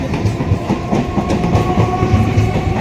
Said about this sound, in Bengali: দেখুন ট্রেনটা চলে যাচ্ছে।